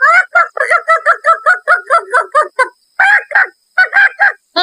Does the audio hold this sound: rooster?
yes